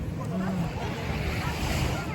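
Surf washes steadily onto a clean beach in Dubai beside a hotel, a broad, even roar blended with wind buffeting the microphone, with people talking nearby.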